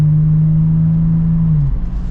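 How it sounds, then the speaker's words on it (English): Toyota 4Runner TRD Pro V6, 2022 Outback Edition, with TRD exhaust, pulling onto an interstate under throttle: a loud, close, steady droning exhaust note that holds then dips as the engine eases off near the end. "I love that TRD exhaust"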